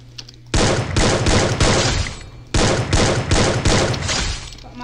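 Rapid bursts of gunfire from an online shooter video game, loud and close, come in two clusters of several shots each with a brief pause between them, and no talk over them.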